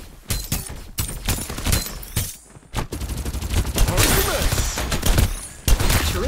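Rapid bursts of automatic gunfire from the battle royale video game Farlight 84, loud and close, with repeated volleys and brief gaps between them, alongside game effects and a faint voice callout.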